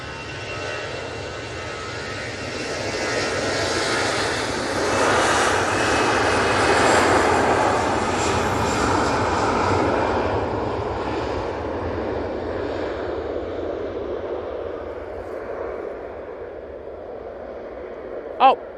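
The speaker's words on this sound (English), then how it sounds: "there's a SAS just come in." An SAS Embraer regional jet arrives at Manchester Airport, its engine roar swelling to a broad peak midway and then slowly fading, heard from a spotting position with a faint click at the end.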